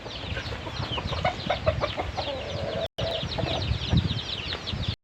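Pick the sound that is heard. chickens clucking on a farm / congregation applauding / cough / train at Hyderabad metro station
chickens clucking on a farm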